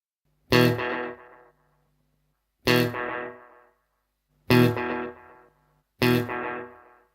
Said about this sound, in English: when driven hard they add quite a bit of distortion and compression to the echoes, particularly on the lower register notes